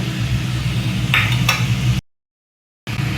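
Steady sizzling of a simmering potato and pointed gourd curry as fried hilsa fish is added, with a couple of brief clinks and scrapes, then a sudden gap of silence before the sizzle returns.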